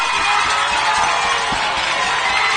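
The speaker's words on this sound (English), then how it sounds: "Well, the crowd's getting into it here on this 3rd down." A high school football game crowd roars on a third down in the fourth quarter, a dense, loud and steady wall of cheering from a distance, with faint thumps underneath.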